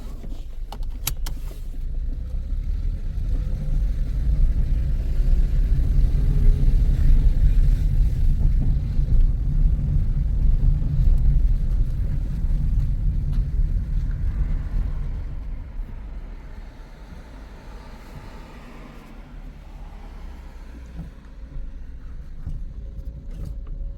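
A car out on a test drive after repair for jerking and shaking, its engine and road rumble loud and steady, swelling to a peak midway then easing to a quieter drone toward the end, with no talking.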